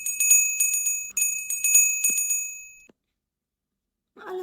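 A bell dings repeatedly in a livestream prize game, bright ringing strikes in a quick rhythm for about three seconds, then silence before a brief murmur of voices.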